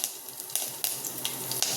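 Curry leaves drop into hot ghee and oil in a pressure cooker during the tempering for tomato pulao, giving a close, steady sizzling hiss with scattered small crackles and pops.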